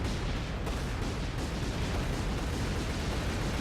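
Rock shot attacks striking in the game Shantae: Half-Genie Hero, a dense, steady roar of booming impacts and rumbling noise with no pause, loud throughout.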